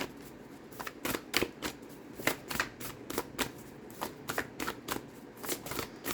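Close, repeated riffling and bridging of an Amanda Lovelace 'Believe in Your Own Magic' oracle card deck, quick crisp bursts of cards slapping together in an uneven rhythm with no talking.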